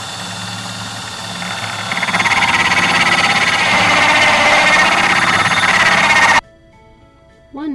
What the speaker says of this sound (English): One hole drilled.